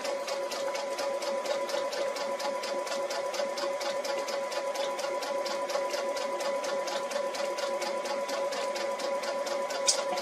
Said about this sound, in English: I'm going to just have my needle follow this line that I've drawn there for my seam line.